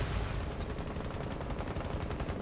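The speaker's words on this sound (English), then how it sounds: "So we got a lot of explosions." Combat explosions and blasts in a Rainbow Six Siege esports match come as a rapid, evenly spaced string of loud bursts, dense and continuous for the whole moment.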